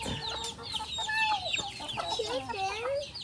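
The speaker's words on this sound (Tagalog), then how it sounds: "Chicken." A chicken clucks repeatedly and close by in a lively backyard, its calls rising and falling in short bursts, with brief background voices in the mix.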